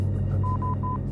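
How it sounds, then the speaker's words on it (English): Gander radio beacon sending Morse code, three short steady tones beeping in a row over a low droning hum. "The Gander radio beacon sends Morse code signals that indicate whether or not the aircraft"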